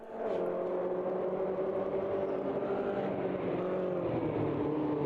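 A Mini race car in Automobilista 2 at Cadwell Park, its engine holding a steady, high droning whine at sustained revs, close and continuous, with a slight pitch dip near the end.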